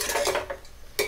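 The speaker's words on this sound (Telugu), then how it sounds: "ఇలా అంతా కలుపుకోవాలి." Quick metallic scrapes of a spatula stirring vegetable fried rice in a pan, a short burst of rhythmic clanks close by.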